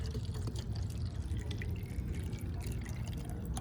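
The rest of a jug of rainwater poured out during outdoor cleaning of a DirecTV Phase 1 satellite dish, a continuous close splashing and dribbling stream lasting a few seconds with no talk.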